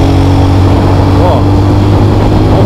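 A 2018 Yamaha Fazer 250 motorcycle idles with a steady, low, even rumble, heard close and loud while a person talks over it.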